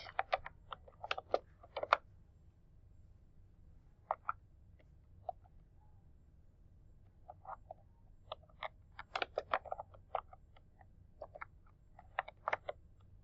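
Keys clack on a computer keyboard as a search topic is typed, quiet close-up taps arriving in short bursts with pauses between, over a faint steady room hum.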